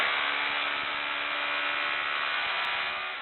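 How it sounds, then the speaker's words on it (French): Rotary hammer chipping tile adhesive off tiles: a continuous loud, dense buzzing rattle of the chisel that runs unbroken and steady throughout, close to the mic with no talk. "il y a déjà pas mal de colle, retiré avec le perforateur"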